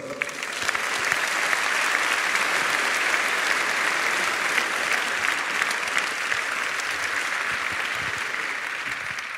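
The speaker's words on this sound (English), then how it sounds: "we can give again to your families a great round of applause" A large audience applauds loudly and continuously at a business school graduation celebration, a dense, even roar of clapping that holds steady throughout.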